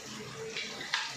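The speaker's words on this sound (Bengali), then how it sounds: "যে তুলসী পাতাগুলো আমি ধুয়ে দিচ্ছি, তুলসী পাতাগুলো ধুয়ে রেখে দিলাম।" Tap water splashes steadily over tulsi leaves being washed by hand, a close, continuous rush with a few brief splashy bursts.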